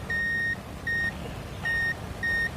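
A multimeter gives four clear, steady continuity beeps while probing a shorted transistor in a Polytron speaker's power supply, each a pure tone about half a second or shorter, evenly spaced over low background hum.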